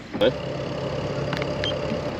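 A sailboat's inboard engine runs as revs are added, a steady mid-pitched drone rising slightly over the short stretch, with a brief knock near the start and faint talk mixed in.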